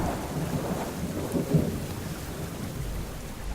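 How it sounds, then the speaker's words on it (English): Rain and thunder from the dynamic weather in the Subsistence survival video game: a steady hiss of rainfall over a low rolling rumble, constant and enveloping with no voices. "You hear how all that sound, that rain and everything goes away, and then you get the sounds of the cabin."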